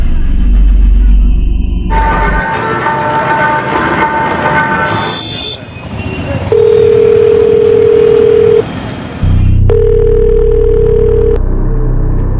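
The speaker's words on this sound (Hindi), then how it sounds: "रिंग तो जा रही है" A mobile phone call ringing tone, steady electronic tone bursts repeating with pauses, loud and close, mixed with dramatic background music and other noise in a crime drama scene.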